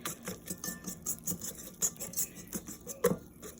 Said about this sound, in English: And you put it in your big bowl and you whisk it.